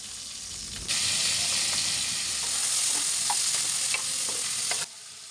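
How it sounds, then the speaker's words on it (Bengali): Winter vegetables and potatoes fry and are stirred in a large wok for vegetable khichuri. A loud sizzling hiss bursts in after a second of quiet and holds steady with scraping stirs, then cuts off near the end. "সবগুলো সবজি এখন আমি একটা একটা করে দিয়ে তারপর সামান্য একটু ভেজে নেব"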